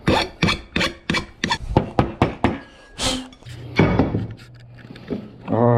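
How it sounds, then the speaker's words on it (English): A hand file rasps burrs off freshly cut metal brackets in a series of about a dozen quick, rhythmic strokes, close and loud, followed by some slower scraping and handling noises. "Let's go ahead and clean off these burrs."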